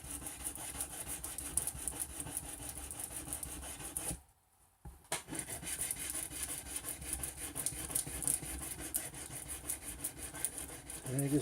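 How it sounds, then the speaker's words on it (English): A guitar fret being sanded and polished on both sides during a refret, a close, steady rasping rub that runs on with one short pause partway through. "I'm going to sand and polish the fret on both sides too"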